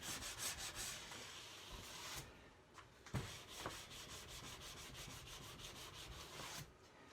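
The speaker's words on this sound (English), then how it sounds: "And then I'll put all my weight over it and really give it a heavy rub." Glide wax is rubbed hard across the base of a ski with heavy downward pressure, making a continuous close scraping, rasping friction sound with a repeating back-and-forth rhythm, louder in the opening seconds and heard without talk.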